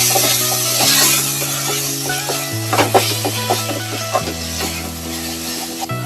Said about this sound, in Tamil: வெங்காயத்தை நல்லா வதக்கியாச்சு.